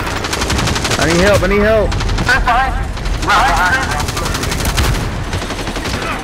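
Rapid automatic gunfire rattles loudly through a battle royale game round, mixing with helicopter-like engine noise and close bursts of shots. A player talks over the action.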